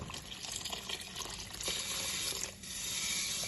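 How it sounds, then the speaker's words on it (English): Coconut milk pours into a cooking pot for a Jamaican brown stew goat dish, a continuous faint liquid splashing and gurgling that runs steadily throughout. "get some coconut milk in it first"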